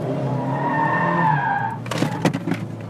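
A Mazda MX-5 in a power drift: a steady engine drone gives way to loud, ragged tire squeal and skidding bursts, close and continuous with no talking.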